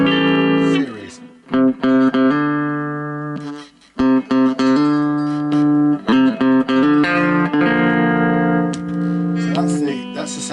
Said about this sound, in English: So that's the sound of the humbucker